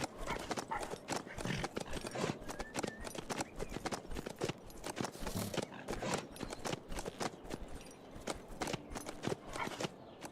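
Horse hooves clip-clopping in the HumanitZ zombie survival video game, a steady run of close hoof beats with an occasional whinny, mixed with game ambience.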